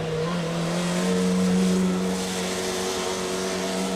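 A Formula Student combustion race car circles the skidpad on a slippery surface, its engine holding a steady, sustained drone throughout, heard from a moderate distance with constant background noise.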